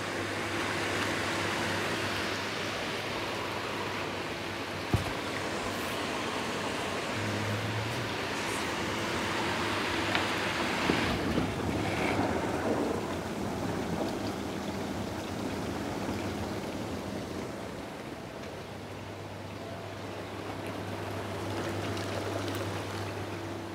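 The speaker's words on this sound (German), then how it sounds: "Wasserfallfontänen einschalten." Waterfall fountains on a whirlpool tub run with a steady, dense rush of splashing water that continues unbroken throughout, with no voices.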